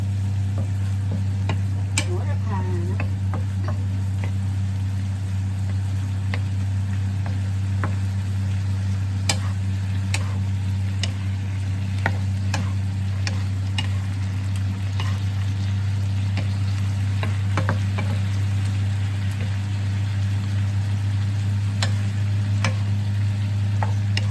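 Eggplant stir-fries with minced pork and basil in a Thai home kitchen: a continuous close sizzle with scattered ticks and spatula clicks over a steady low hum, no talking.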